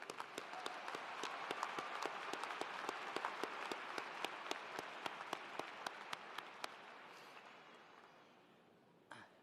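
An audience applauds at a university commencement ceremony, a sustained wash of clapping with a few sharp individual claps standing out, fading gradually toward the end.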